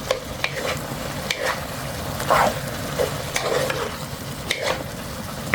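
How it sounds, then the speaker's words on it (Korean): A utensil lightly stirs scrambled egg and tomato in a pan, with scattered taps and scrapes over a steady low sizzle. "여기에 달걀 스크램블을 넣고 가볍게 섞어요"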